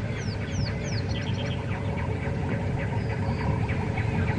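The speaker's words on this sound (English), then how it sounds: "Babblers." Babblers calling in the African bush at dawn on a safari drive, short repeated chattering notes over a steady low rumble of ambient noise and other distant birds.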